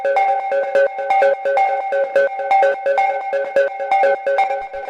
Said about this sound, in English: So the first sound that we have here is this lead, which sounds like this.